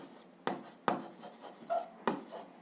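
A pen or pencil writes an equation by hand on paper, giving a few soft, close scratching strokes with sharp taps at each new stroke, quiet and without talk.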